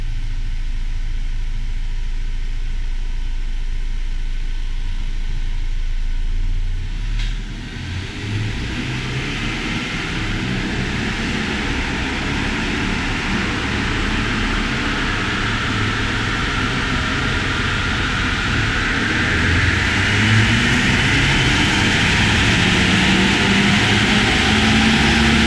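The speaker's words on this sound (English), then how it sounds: "We're going to go ahead and make some pulls right now and see what kind of power this 2019 Ranger makes." A tuned 2019 Ford Ranger engine roars steadily under load on a dyno, a loud sustained drone with a brief dip around seven seconds before climbing again, with fan-like rushing noise throughout and no talk.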